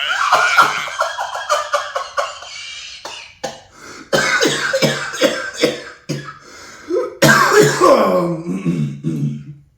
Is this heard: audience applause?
no